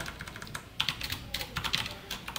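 Code is typed on a computer keyboard in quick irregular bursts of light key clicks, close and fairly quiet, with no talking.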